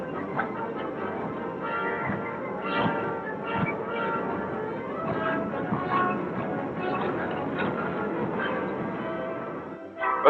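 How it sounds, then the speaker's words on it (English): A speeding freight train on New England rails, recorded for a 1942 film, gives a steady rushing clatter with rhythmic wheel clicks, a muffled, narrow-band sound that stays loud throughout. "The mighty system of operations embodied in the speeding freight train."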